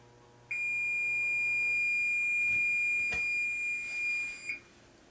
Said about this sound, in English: we'll set our kitchen timer for 10 minutes